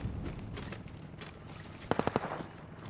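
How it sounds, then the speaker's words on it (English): Rapid bursts of Call of Duty: Modern Warfare gunfire, distant at first, then a quick close volley of four sharp shots near the end. "Gunfire south."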